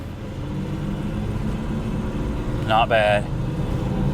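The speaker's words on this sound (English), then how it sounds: "Oh, there's that hub bearing." A car with a worn right front hub bearing drives along, giving off a steady low droning rumble throughout, and a voice speaks briefly near the end.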